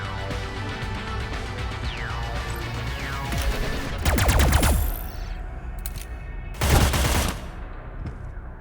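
Gunfire in the video game Cyber Knights Flashpoint: scattered shots and a couple of loud, dense bursts of rapid automatic fire with ringing tails, heard against a steady game background.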